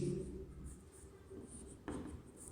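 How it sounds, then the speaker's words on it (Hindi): Pen or pencil writing on paper during a Class 3 maths lesson on money, faint scratchy strokes continuing through the clip with a short burst near the end, over low room noise and a brief trace of voice at the start. "तो यहां लिखेंगे"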